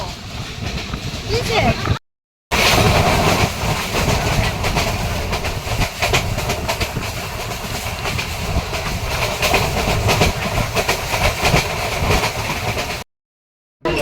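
Steady rumble and rattle of a moving passenger train nearing Dhaka, heard from inside the carriage, continuous and fairly loud with two brief dropouts, and muffled voices faintly under the noise.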